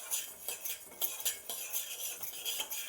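Fenugreek and coriander seeds dry-roast in a pan over low heat, a metal spoon scraping and clinking against the pan in quick, irregular strokes, quiet and close.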